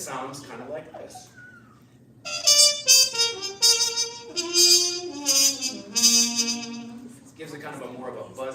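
A trumpet with a harmon mute, stem removed, plays a buzzy, bright melodic line of several sustained notes, loud and close. Brief talk frames it at the start and end.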